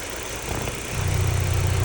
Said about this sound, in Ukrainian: Моторчик чітко працює, не сапонить, не парує, мотор прогрітий.